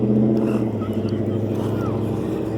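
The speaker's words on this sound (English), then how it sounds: "Oh, that's a nice exhaust." A passing car's exhaust rumbles steadily at close range in a park, a continuous loud drone with no spoken words.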